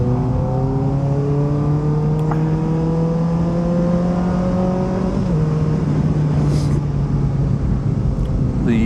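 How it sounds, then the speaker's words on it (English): A Kawasaki ZX-4RR motorcycle fitted with an aftermarket exhaust runs loud and steady, its engine note climbing smoothly through the revs before a sharp blip shift drops the pitch, then it pulls on again with no talking over it. "The blip shift is beautiful."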